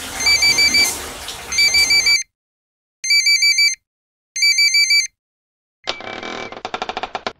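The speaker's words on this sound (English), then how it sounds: "Honey, your phone is ringing." A phone ringtone plays in repeated short melodic bursts separated by silences, loud and close, followed by a noisier rattling stretch at the end.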